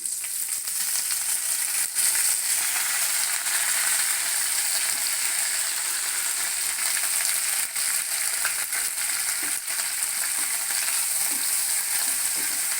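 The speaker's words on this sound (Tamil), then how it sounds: "இந்த புதினா இலையை நல்லா அப்படியே இந்த எண்ணெயிலேயே கிளறி விட்டுறலாம்." Mint leaves stirred and frying in hot oil for mint chutney, a steady dense sizzle running unbroken and fairly loud throughout, with faint scraping stirs underneath and no talking.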